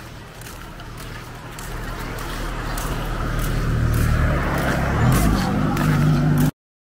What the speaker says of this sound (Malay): Kereta kawan-kawan.